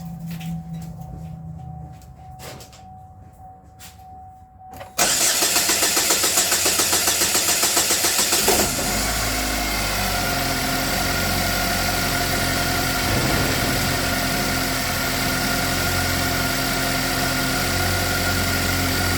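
A GMC Terrain engine, after a misfire repair, cranks and catches after a few seconds of quiet, then settles into a loud, steady idle with a constant rumble and slight vibration.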